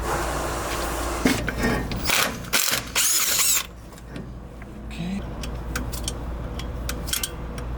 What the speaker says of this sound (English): Now I need to get a 13mm wrench, remove the hose, and reconnect it to this caliper.